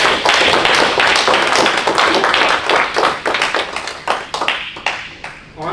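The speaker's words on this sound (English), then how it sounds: "Give yourselves a big round of applause" An audience at a talk breaks into loud, dense applause, steady at first, then thinning into scattered individual claps toward the end.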